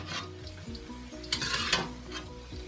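Bean sprouts being stirred into a hot pan of beef ramen, a steady close sizzle of frying with scraping and clinks of a utensil against the pan, no voices.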